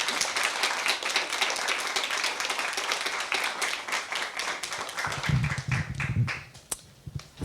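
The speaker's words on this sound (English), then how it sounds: "Please help me in welcoming them with a big round of applause." An audience claps steadily in a broad, dense wash of applause welcoming panelists to a discussion event on populism, the clapping thinning and tapering off toward the end with some nearby louder claps.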